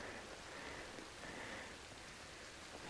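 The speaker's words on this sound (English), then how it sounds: "the rain's calmed down a little bit, but it's still rainy out there" Steady rain falls outdoors on a wet day while firewood is being collected, a constant soft hiss of drops with no voices, even and unbroken throughout.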